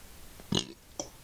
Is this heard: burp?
yes